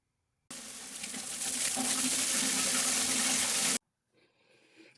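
Water from a shower runs into a container in a loud, steady rush lasting about three seconds, starting and stopping abruptly, followed by faint handling noises.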